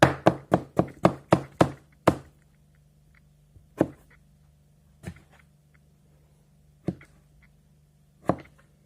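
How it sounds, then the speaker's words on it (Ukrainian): A knife chops peeled food into small cubes on a board, a fast run of about eight sharp, close knocks followed by a few slower, isolated chops with pauses between. "Тепер нарізаємо абсолютно рандомно."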